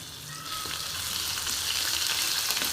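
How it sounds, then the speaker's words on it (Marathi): Ginger garlic paste fries in a hot pan with a steady, bright sizzle and crackle, a continuous close hiss with faint stirring, no talking. "थोडंसं फ्राय करून घेते ह्याच्यामध्ये."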